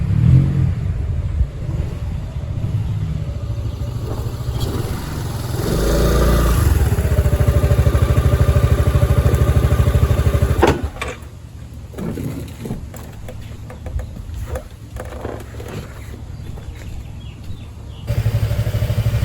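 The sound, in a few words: scooter engine arriving home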